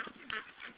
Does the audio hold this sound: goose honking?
yes